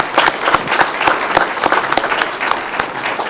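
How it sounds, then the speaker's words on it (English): Clapping at a city council meeting as a room applauds Kenzie, a crisp dense burst of many hands with sharp individual claps standing out, close and steady throughout. "round of applause for Kenzie"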